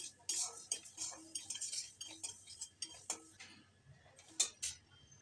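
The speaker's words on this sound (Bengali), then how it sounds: "মুগ ডালটা শুকনো খোলায় ভেজে নিতে হবে" Mung dal is dry-roasted in a pan with no oil, a metal spoon or spatula scraping and clinking against the pan in irregular stirring strokes, quiet and close with no talking.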